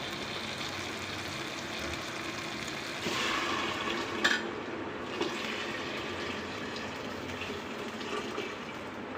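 Chicken cooking water is poured steadily into a pot, a continuous splashing rush with a brief louder gush partway through.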